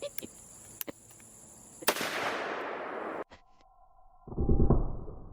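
A Ruger revolver fires a .45 Colt load pushed to just under .44 Magnum levels: a few light clicks, then one sharp, loud shot with a long ringing decay, followed by a lower rumble.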